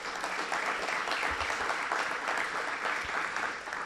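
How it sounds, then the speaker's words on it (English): An audience at an evening Design Week artist talk applauds a sponsor, dense continuous clapping filling the room at a steady level from start to finish, with no voices on top. "So big round of applause for the CAM."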